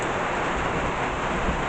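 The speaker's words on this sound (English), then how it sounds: "This was a sufficient enough rain to be able to do that." Steady rain falling during a thunderstorm in Burgos, heard outdoors in a yard as a continuous, even hiss of broadband noise at moderate level, with no talk and no distinct thunderclaps.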